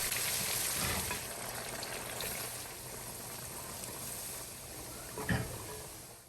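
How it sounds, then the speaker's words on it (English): Seasoned tofu chunks deep frying in hot oil make a steady, dense sizzle and crackle close by, with a brief bubbling burst near the end and no talking. "I'm going to just scoop my tofu chunks with all the seasoning on it right here into my oil and let it"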